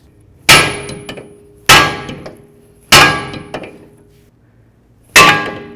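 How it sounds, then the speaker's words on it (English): Four sharp metallic clangs ring out as a small hammer strikes the steering knuckle of a 2006-10 Dodge Charger to break the lower ball joint free from the control arm, each hit close and loud with a brief ringing decay. "use your little hammer and give this a bonk right along here, because we want to break the ball joint free from this control arm"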